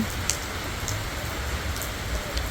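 Rain falling at night, a steady soft hiss with scattered louder drops landing nearby, continuous and even throughout.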